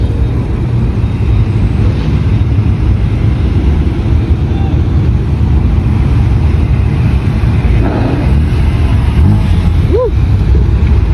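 A Holden car's engine rumbles loudly at an indoor car show in Newnan, Georgia: a deep, continuous low growl with a short swelling rev near the end, amid background crowd noise.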